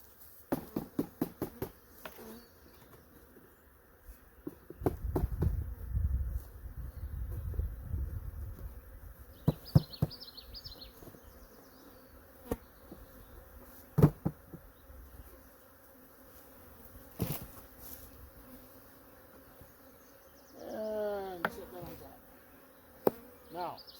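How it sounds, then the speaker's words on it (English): Scattered honey bees buzz faintly near and far amid sparse knocks and thumps of frames being placed in a hive, with a few louder buzzing passes and quiet stretches between. "What you got in here is bees."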